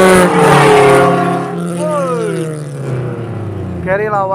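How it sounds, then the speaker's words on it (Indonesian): A Suzuki Carry pickup and a Honda Jazz race at a drag strip in Cicangkal, Indonesia, their engines revving loudly as they accelerate and climb through the gears, with someone talking over the roar. "kita lihat balap mobil sekarang"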